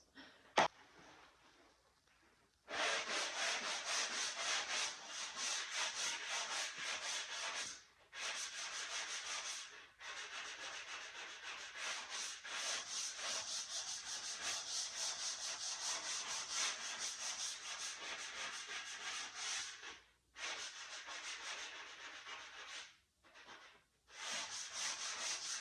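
Wood being sanded by hand with general-purpose fine sanding blocks: a steady, rasping scrub runs on in long stretches, broken by a few brief pauses.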